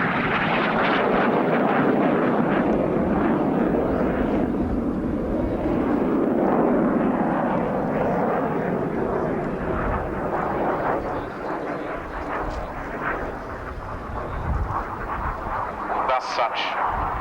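A single-seat multi-role fighter jet at the RAF Abingdon airshow in 1990 roars past with a broad, sustained engine rush that slowly fades. A commentator talks over it throughout.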